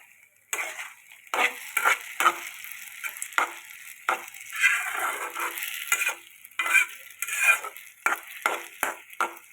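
Sago (sabudana) being stirred and fried in a pan for upma, with rapid, rhythmic scraping strokes over a dry rustle of the grains, loud and close throughout.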